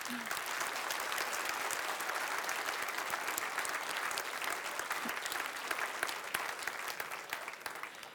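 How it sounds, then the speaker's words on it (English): Continuous applause from the audience at a science award ceremony, moderately distant and even in volume, with faint crowd murmur mixed in. "I'd also like to ask for a round of applause for all the teams"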